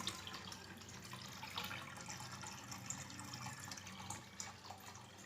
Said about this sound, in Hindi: मैं धो रही हूँ कपड़े